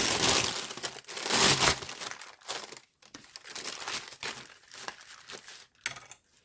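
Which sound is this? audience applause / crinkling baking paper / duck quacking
crinkling baking paper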